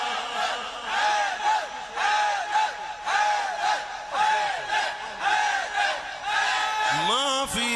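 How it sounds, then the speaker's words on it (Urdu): A large crowd at a religious gathering chants the Nara-e-Takbeer slogan in roaring unison, about seven loud, evenly spaced shouts. A single voice rises near the end. "نعرہ بنا دو نعرہ تکبیر"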